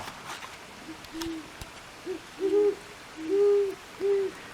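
An owl hoots in a quiet night setting, giving about five short, soft, mid-pitched calls spaced irregularly over a few seconds, with faint background hiss between them.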